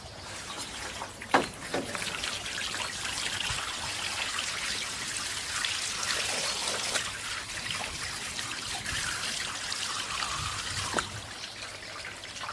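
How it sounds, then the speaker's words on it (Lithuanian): Water runs and trickles over a gutter guard on a roof as spruce needles clogging it are washed off, a steady wash of flowing water with a couple of louder splashes, no talking. "Čia taip pat simuliuojame stiprų eglės adatų užsikimšimą ir nuplauname jas ant stogo sistemos dalies."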